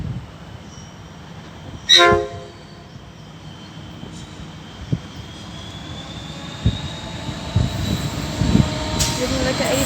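A train led by 82 class diesel locomotives, with the lead 82.23 followed by 82.33 and 82.32, passes with a sharp horn blast early on, then a continuous low rumble and rattle of wagons, while someone talks over it.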